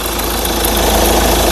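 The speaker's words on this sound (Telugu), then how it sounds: "ఇంజన్ యొక్క నాయిస్ పర్ఫెక్ట్గా అయితే ఉంది." A 2017 Mahindra Scorpio S4 Plus engine idles steadily and loudly up close, with a constant rough, vibrating drone and no voices.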